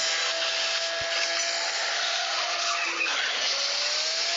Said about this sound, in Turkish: Bir de drift yapıyorum. İnanın çok zor yani tutmak yolda.